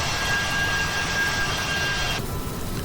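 Boeing 787 jet engines in the X-Plane flight simulator give a steady, loud, roaring whine that holds throughout. The upper hiss drops away abruptly near the end, and no one speaks.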